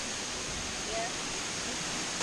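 A Texas Hill Country waterfall pours in a steady, dense broadband roar, heard up close from behind the falling water, with no break across the moment.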